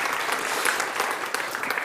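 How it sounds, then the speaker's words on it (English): Brief burst of audience applause during a tech talk on ReactJS, a dense, even patter of many hands clapping at moderate loudness. "Actually, let's get some applause for that."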